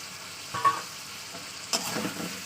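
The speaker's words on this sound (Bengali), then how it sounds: "এবার আমি ভালো করে কষে নেব তেলের সঙ্গে সমস্ত মশলা সবজি চিংড়ি সব" Spices, vegetables and prawns are stir-fried in oil, a soft steady sizzle broken by two short scraping stirs of the spoon, close and fairly quiet, with no talking.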